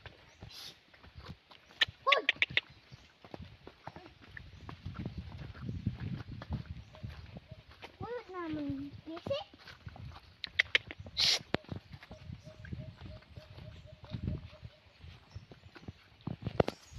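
A horse's hooves clip-clop in scattered, faint steps outdoors, with a few sharper knocks and voices talking intermittently nearby.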